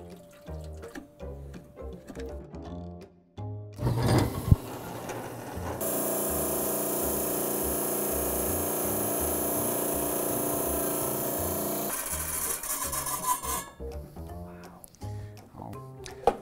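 Small geode clamped in a wet tile saw, the motor starting with rough grinding, then a steady, loud whining cut lasting about six seconds before winding down amid light handling noise.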